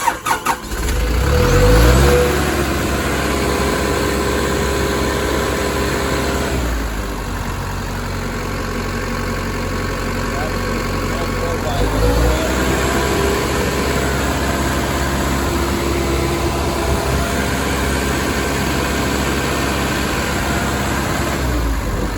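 A Komatsu PC160LC-7 excavator's turbocharged, aftercooled diesel engine cranks and catches, then settles into a steady, loud, low idle that rumbles continuously close by, with a slight rise in revs partway through.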